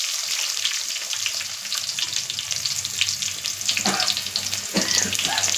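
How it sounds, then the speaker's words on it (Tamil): Chopped onions and curry leaves fry in hot oil in a pan, giving a steady close sizzle with a couple of brief stirring scrapes near the end. "அது நல்லா கொஞ்சம் வதங்கி வரட்டும்."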